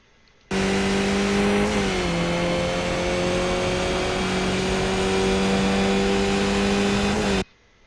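A race car engine in the iRacing sim screams at full speed around the Circuit of the Americas West track on cold tires, a loud sustained whine whose pitch dips once at a shift and then climbs steadily before cutting off.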